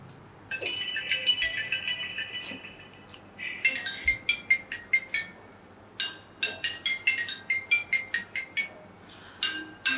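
Ringtone melody playing from the loudspeaker of an iPhone SE 2 (2020) that is still wet after a water test, sounding muffled and tinny in repeated short chiming bursts with gaps between phrases.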